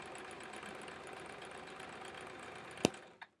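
A sewing machine stitches a quilt-as-you-go pineapple block with the presser foot as a guide, a steady close mechanical whir that stops with a sharp clunk and a brief click after.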